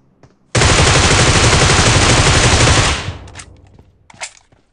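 Gunfire from a squad fight in PUBG Mobile: one loud, dense burst of rapid automatic fire lasting about two and a half seconds, then tapering into scattered fainter shots and echoes.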